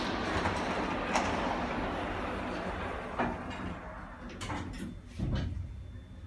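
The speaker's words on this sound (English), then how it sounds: "Doors closing." A Liftec lift at the British Museum in London slides its doors shut with a broad rushing hum and a few soft knocks, fading toward a muffled thud at the end.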